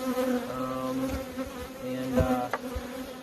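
Honey bees hum around a new single-body hive with one super and an excluder, a close, wavering drone with individual buzzes rising and falling over the colony's steady hum.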